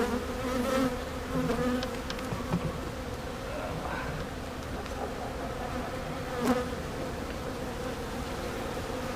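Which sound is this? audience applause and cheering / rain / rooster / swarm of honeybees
swarm of honeybees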